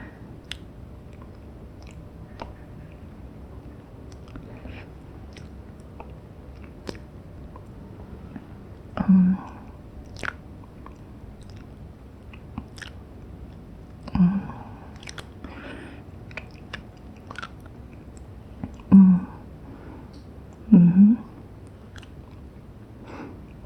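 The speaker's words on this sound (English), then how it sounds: "I swear I could eat that all day." Eating something rich, with soft wet chewing and squishy bites scattered through a quiet, close-up space, plus a few louder mouth sounds near the middle and end.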